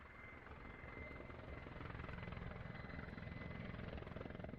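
Kamov Ka-52M Alligator attack helicopter with coaxial rotors, a continuous rapid blade chop over a steady engine whine, building slightly louder across the stretch with no voices.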